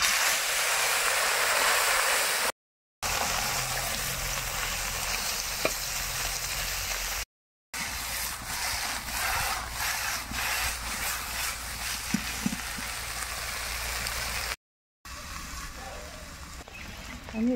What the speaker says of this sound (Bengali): মাছগুলো আমি লবণ হলুদ মাখিয়ে রেখেছিলাম, এবার আমি কড়াইয়ের মধ্যে দিয়ে দেবো।